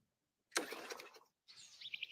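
Birds chirping in short bursts, a bright twittering flurry followed by a pause and then a run of rapid, high repeated chirps, moderately quiet with no talking.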